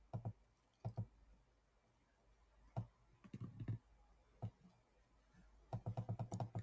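Typing on a computer keyboard: sparse, close clicks in short bursts and single taps, then a quick run of keystrokes near the end, with a quiet room behind.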